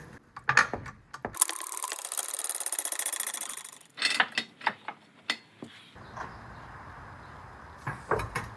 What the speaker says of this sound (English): I've set the rear parking brake and I'm going to jack up the vehicle here.